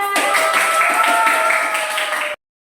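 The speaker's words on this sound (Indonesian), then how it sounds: "Tepuk tangan semuanya" A classroom of students at a junior high school claps together in a steady, brisk burst that stops abruptly, with voices mixed into the clapping.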